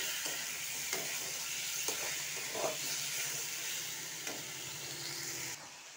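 Potatoes sautéing in a pan for masala okra, a constant hissing sizzle with a few soft spoon scrapes and taps, close and steady with no talking, dropping off abruptly at the very end.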